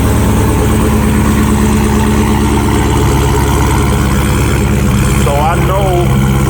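A modified Dodge Hellcat V8 with an aftermarket intake and exhaust idles at close range, giving a steady, loud, deep rumble that holds unchanged throughout, with a faint brief voice-like sound near the end.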